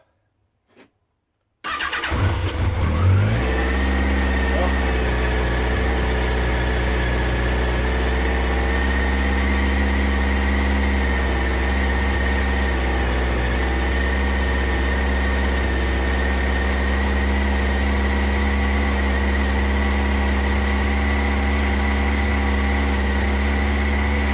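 A Yamaha XJR1300 motorcycle engine cranks and fires after a short silence, then settles into a steady, loud, even idle on choke, running alone without talk.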